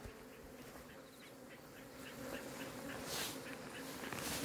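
Hornets buzzing around a beehive at sunset, a dense continuous outdoor drone of many insects with passing swells as individual hornets fly close, under a steady ambient background.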